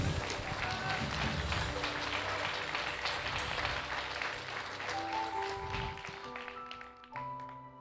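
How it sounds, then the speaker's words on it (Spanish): Quiet congregation applause during a Spanish-language church service. It is steady at first, then thins out after about five seconds as sustained musical tones come through underneath. "Denle un aplauso a mi rey."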